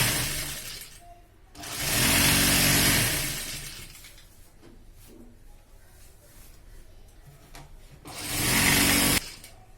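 A sewing machine stitching a piping strip runs in two loud bursts, one long and one shorter, with quieter handling noise between them, close up.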